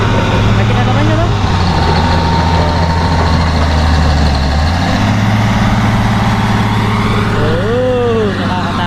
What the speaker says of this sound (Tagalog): maingay po yung makina